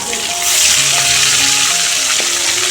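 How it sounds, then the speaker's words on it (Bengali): Fish dropped into hot oil in a home kitchen, the sizzle swelling loudly after the first half-second and then holding a steady, dense crackle close up throughout. "তেলের মধ্যে ছাপাং করে মাছ চলে গেল।"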